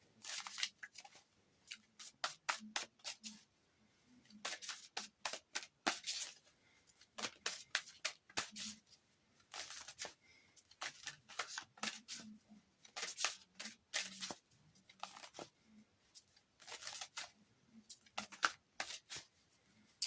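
A Gilded Tarot Royale deck being shuffled and drawn from, close by: quick riffling bursts of stiff cards with soft taps and short pauses between them, repeating steadily with no talking.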